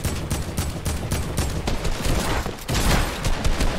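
Rapid bursts of video game gunfire during a solo custom match: dense, loud volleys of shots that run almost continuously and swell louder near the end, with no talking.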